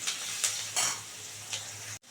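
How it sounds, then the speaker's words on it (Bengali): Onion fries in a pan, making a steady close sizzle broken by a few sharp stirring scrapes and clinks spaced about half a second apart. "এবার এটাকে পেঁয়াজটা একটু লাল লাল করে ভাজা হোক,"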